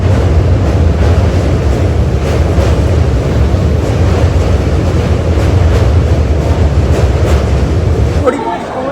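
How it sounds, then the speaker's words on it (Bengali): A passenger train on the line from Kolkata toward Bardhaman runs with a loud, continuous rumble and rushing noise heard from on board, fading sharply near the end. "চলে এসছে আমাদের ট্রেন, আমাদের প্রথম হল্ট নৈহাটি জংশন"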